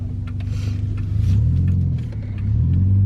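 A Subaru Forester rolls up close and parks, its engine rumbling steadily with a brief rise in revs before settling into idle.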